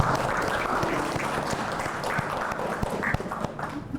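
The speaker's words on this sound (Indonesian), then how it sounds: "kita berikan aplaus kepada Nabila" Audience applause for Nabila at a lecture on diabetes, steady crowd clapping that carries on for several seconds with scattered individual claps standing out near the end.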